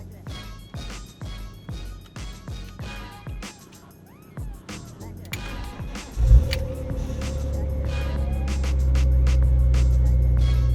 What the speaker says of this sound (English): I'm hoping it's going to start up first time